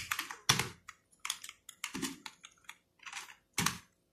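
Keys clatter on a computer keyboard in quick irregular bursts of clicks separated by short pauses, close and crisp, while someone types code for an Arduino servo motor program.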